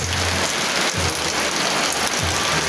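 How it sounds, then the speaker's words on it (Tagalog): Heavy rain pounding steadily on a broken-down, stranded bus near Calbayog, a dense, loud hiss of drops with low rumbling underneath and no talk. "Malakas pa man din ang ulan."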